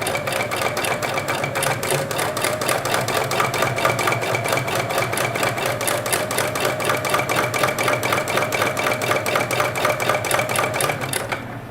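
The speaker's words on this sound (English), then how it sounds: "The sound of bobbin work is kind of soothing." A sewing machine stitching free-motion bobbin work for a spider web gnome pattern runs steadily and close, its rapid, even needle rhythm continuing alone for about twelve seconds before stopping at the very end.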